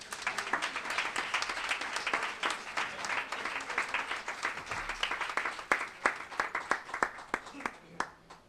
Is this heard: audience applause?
yes